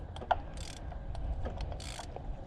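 A ratchet wrench loosens a spark plug on a Japanese outboard motor, giving a few short clicking bursts of the pawl between quiet pauses, close and fairly faint.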